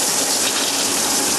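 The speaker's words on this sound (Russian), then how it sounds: "сейчас должна пойти грязная вода из песка" Dirty water gushes out steadily during the backwash of a sand filter on an above-ground frame pool, a loud continuous rushing flow.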